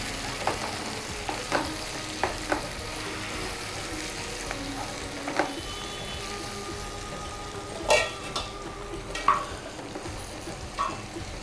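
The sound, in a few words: frying tomatoes and spices for pepper chicken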